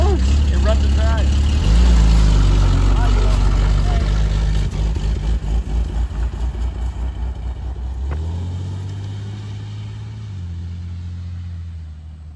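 Car engine from a video game, the car with a broken windshield, runs loud and steady at a low rumble, with a shift in pitch partway through as it settles into a lower drone; a voice talks over it.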